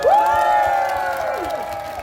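A crowd at a music film festival eve concert cheers and shouts together on a countdown cue, a loud, sustained wash of voices with rising whoops and some clapping underneath.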